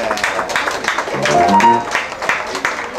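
An audience at a big band concert applauds a singer, steady clapping running throughout with a voice speaking over it midway.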